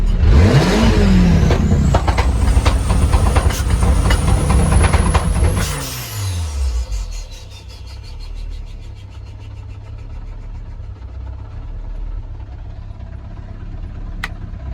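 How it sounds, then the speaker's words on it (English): A 500bhp-plus 1.8T-swapped Mk3 MR2 engine roars at full throttle with anti-lag engaged, a loud rising howl that cuts off into crackling, popping deceleration and a lower idle-like rumble, close and dominant. "race mode, which is anti-lag, then I just have to go full throttle to activate it"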